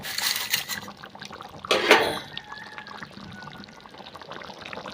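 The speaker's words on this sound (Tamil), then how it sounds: "குழம்புக்கு தேவையான சுடுதண்ணி ஊற்றிடலாம்." Hot water poured into a pot of country chicken curry being cooked, a brief splashing pour near the start and a louder burst around two seconds, then quieter simmering and kitchen sounds, with no talking.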